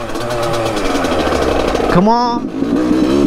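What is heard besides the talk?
Yamaha YZ85 two-stroke dirt bike engine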